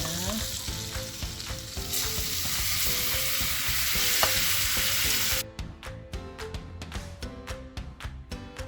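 Chicken pieces sizzling and frying in a pan, stirred with a utensil that scrapes and clacks in irregular bursts, the hiss dropping partway through as the stirring clatter continues close up.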